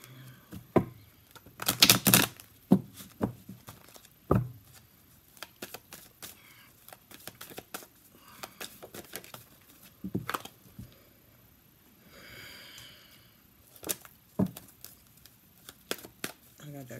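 Tarot cards are shuffled in quiet, repeated bursts of riffling and soft slaps, close and faint, while a person talks intermittently.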